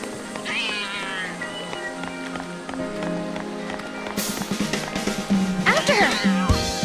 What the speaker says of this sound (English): But that's just a cat.